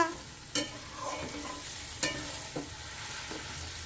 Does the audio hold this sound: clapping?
no